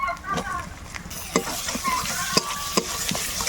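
Chopped tomatoes stirred into a pan of spices with Kashmiri chilli powder while cooking ghugni, giving a soft continuous sizzle with scraping stir strokes and a few sharp clinks of a spoon against the pan.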